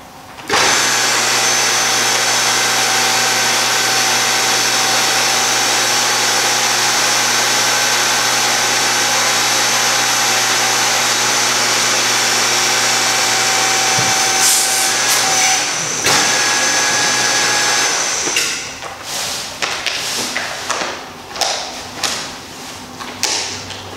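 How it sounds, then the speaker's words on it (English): A mandrel tube bender bends 1.75 inch, 0.065 wall stainless steel tube in a shop, giving a loud steady machine hum and whine for most of the clip, then a few thumps and clanks as it winds down. "today we're going to mandrel bend, which is pretty interesting"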